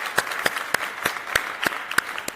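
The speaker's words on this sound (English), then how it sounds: "Round of applause, absolutely." Audience clapping follows a shout-out during a talk on diversity and anti-discrimination in sports. About eight distinct, separated claps ring out sparsely and unevenly over a quiet room, sounding like a small group.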